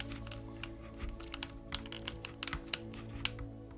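Small tapping screws are driven into a hard-plastic Tamiya gearbox, giving close, faint, irregular clicks and creaks over a steady motor hum.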